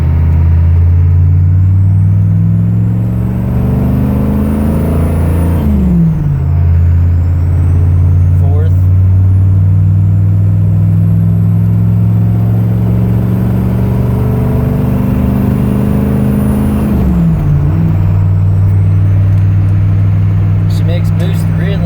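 A Chevy 6.5 turbo diesel pickup with a surging injection pump pulls hard in third gear, its loud engine drone climbing steadily in pitch, dropping at a gear change, then climbing again alongside turbo whine.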